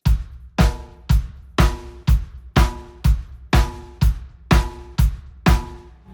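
Drum kit playing a steady verse groove with quarter notes on the hi-hat, twelve evenly spaced loud hits with bass drum and snare, close and alone with no talking.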